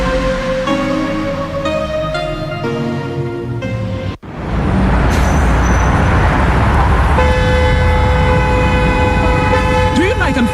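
Car horns honk in a traffic jam, tonal toots stacked over road noise, then a long held horn note near the end amid dense traffic rumble, with voices talking throughout.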